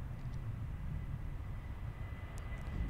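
Airplane departing at Chicago O'Hare airport, a steady, low rumbling engine roar heard from some distance, continuous and fairly faint, with no voices.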